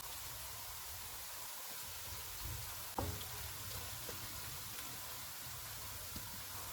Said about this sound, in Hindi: इनमें 1 टेबल स्पून अदरक और लहसुन का पेस्ट डालेंगे और 2 मिनट तक भूनेंगे